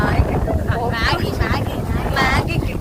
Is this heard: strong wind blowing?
yes